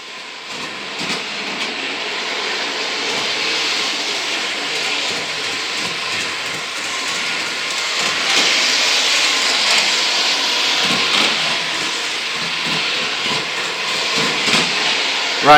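A Lionel Lines Speeder, a small conventional toy rail vehicle, runs at half throttle around a model railroad main track, giving a steady whirring hiss with faint clicking of wheels over rail joints, continuous and fairly close with no talking.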